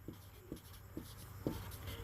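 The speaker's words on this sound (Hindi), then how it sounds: "चलिए मैं इसको लिख देता हूँ" Pen or chalk writing by a teacher explaining class 9 polynomials, heard as four soft, evenly spaced strokes about half a second apart over a quiet room hum, with no talking.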